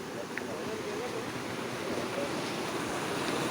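Flowing river water, a quiet steady broadband rush with a soft wind-like texture and slight buffeting on the microphone, continuous with no voices.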